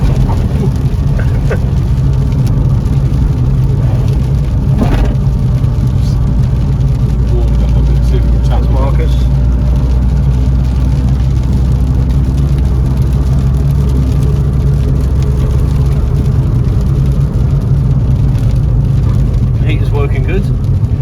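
A Ford Escort XR3i driving, its steady engine drone and road rumble filling the cabin at close range for the whole stretch, with occasional faint clicks and a voice speaking briefly over the engine.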